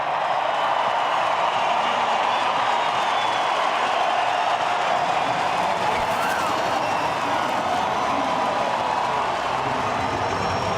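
A crowd cheers at the Mexico City E-Prix Formula E race, heard as a broad, distant roar that holds steady over more than ten seconds.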